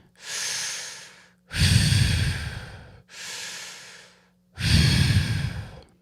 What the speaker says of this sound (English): when you release the air, you want to try to have the air pass that same cold spot on your lips that you felt on the inhale